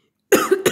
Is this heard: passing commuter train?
no